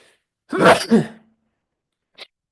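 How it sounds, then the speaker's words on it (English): A single loud sneeze close by, a two-part burst, followed by a brief faint sniff after a pause. "Oh, I'm gonna sneeze, I think."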